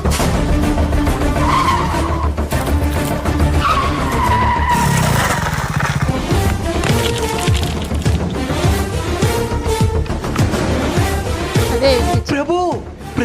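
A two-wheeler with failed brakes skids, tires squealing loudly in repeated drawn-out screeches over a roaring engine, ending in a sharp, chaotic burst.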